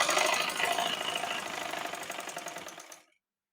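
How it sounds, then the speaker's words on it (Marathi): A sewing machine runs steadily, stitching about half an inch in along the folded hem of a petticoat, a dense continuous whir at close range that cuts off abruptly just before the end. "तर आता इथे मी साधारण 1/2 ते अर्धा इंचावर शिलाई देते"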